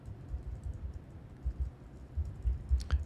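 Quiet, steady clicking of keys on a computer keyboard, a soft run of taps with brief pauses, close and low in level, no voices.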